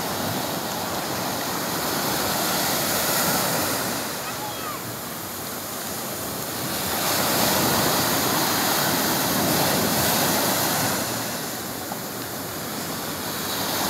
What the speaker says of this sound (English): They're in the ocean swimming with the fishes